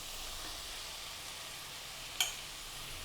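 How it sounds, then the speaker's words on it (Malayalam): Small shallots frying in hot oil with sliced onions for a tender coconut chicken dish, giving a faint, steady hiss with one brief clink of stirring midway. "കൊച്ചുള്ളിയും കൂടി ഇട്ടിട്ട് ഒന്ന് ഇളക്കാം"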